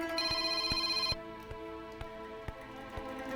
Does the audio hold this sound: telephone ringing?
yes